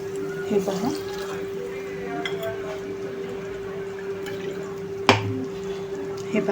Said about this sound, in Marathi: आता आपण आणखीन थोडं पाणी टाकणार आहे ह्याच्यामध्ये